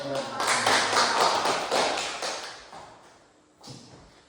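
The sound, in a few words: classroom clapping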